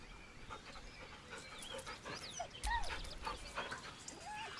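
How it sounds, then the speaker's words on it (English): A dog in the Baldur's Gate video game whimpers nervously, with soft, high, rising whines and faint panting breaths scattered over a quiet, muffled background. "The dog whimpers nervously"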